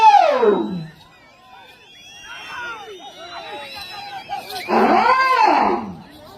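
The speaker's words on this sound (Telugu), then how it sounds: "కేకలు విజిల్లు." Spectators at a bull race in Vetapalem shout and whistle in loud bursts, with a surge at the start, a quieter stretch of scattered calls, then a second loud swell of yelling near the end.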